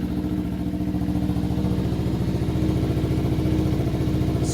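A Kawasaki Ninja 300 motorcycle engine runs close by with a steady, loud, rhythmic putter that climbs only slightly, as if given gentle revs.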